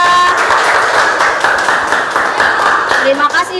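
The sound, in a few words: classroom applause for group 3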